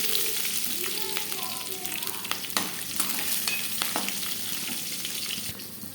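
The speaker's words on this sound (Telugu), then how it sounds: "ఇప్పుడు అదే కడాయిలో పచ్చిమిర్చి, జీలకర్ర, కొద్దిగా బిర్యానీ ఆకు, లవంగాలు, ఆవాలు, జీలకర్ర అన్నీ వేసి బాగా ఫ్రై చేసుకోవాలి." Green chilies, cumin, bay leaf, cloves and mustard seeds frying in a kadai, giving a lively close sizzle with small pops and clicks from the seeds and a few stirring scrapes.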